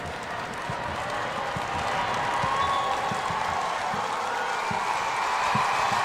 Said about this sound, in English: It's loud. There's good crowd noise.